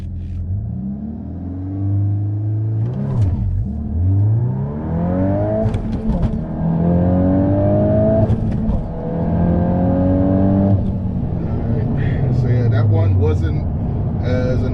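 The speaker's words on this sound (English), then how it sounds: "So let's try one more 0 to 60, and the road is slightly uphill as well." A car, a manual VW Golf R or a Honda Civic Type R, launches hard from a standstill up a slight incline, its engine rising in pitch through several gear changes, loud and close, with someone talking over it.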